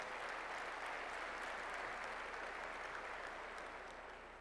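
Audience at a professional speaker's corporate meeting applauding, a steady wash of many hands clapping at moderate distance, tapering slightly toward the end.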